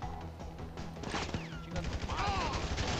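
Gunfire in GTA 5 during a gang shootout, bursts of rapid shots cracking close and loud with someone talking over them.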